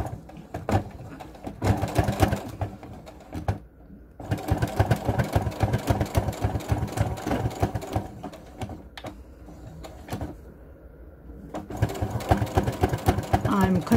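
Sewing machine stitching fabric for a small gift-card wallet, a steady close rapid mechanical rattle in long runs with brief pauses, while someone talks over it.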